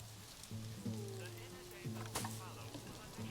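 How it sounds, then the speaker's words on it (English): Rain falls steadily in the zoo-building video game Planet Zoo as a soft, continuous hiss, with faint sustained tones running over it. "Of course, it's got to start raining as well."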